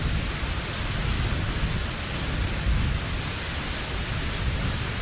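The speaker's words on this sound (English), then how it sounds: "The rainy weather followed me inside, it seemed." Heavy stormy rain in a video game, a dense, steady, unbroken roar of rainfall with a faint low rumble, loud and continuous throughout with no voices.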